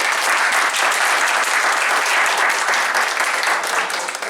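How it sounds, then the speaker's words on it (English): Sustained, dense audience applause for a student presenter at a technical session, steady clapping throughout that thins slightly at the end, with no voices over it. "give her a big round of applause"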